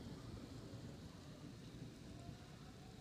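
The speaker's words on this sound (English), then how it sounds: "Look at this storm." A thunderstorm with rain gives a steady, low rumbling wash of rainfall and distant thunder, faint and continuous with no clear speech.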